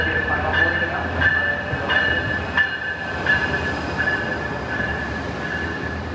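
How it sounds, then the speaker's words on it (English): An Amtrak passenger train rolls into a station with a sustained metallic wheel squeal over a low rumble and periodic clacking, fairly loud and continuous. "now announcing the arrival of Amtrak train 30, the Capital Limited"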